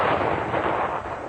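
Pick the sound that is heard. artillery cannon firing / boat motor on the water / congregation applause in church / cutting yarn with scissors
artillery cannon firing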